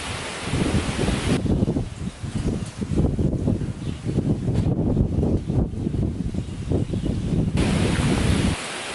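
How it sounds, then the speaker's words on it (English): Strong, gusty wind blowing outdoors, a loud continuous roar that buffets the microphone throughout and briefly eases in the middle before surging back. "While I was talking to you, the wind was coming from the west. It turned around and it started coming from the north, quite fierce."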